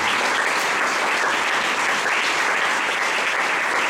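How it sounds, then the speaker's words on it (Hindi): Steady, dense applause from a seated church audience at a pastor's sermon, loud and continuous throughout with no voices over it. "इसलिए आपके लिए ताली बजाएंगे"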